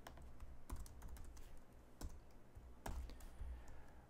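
Computer keyboard keys clicking in short, irregular bursts, close and fairly quiet, during PHP coding work; no one talks.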